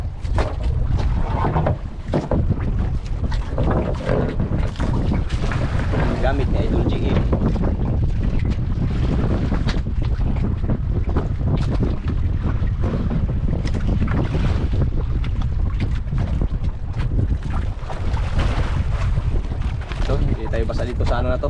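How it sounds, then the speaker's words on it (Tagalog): Loud, continuous wind roars and buffets the microphone at sea, mixed with the slap and wash of waves against a small boat. "kasi malakas yung hangin"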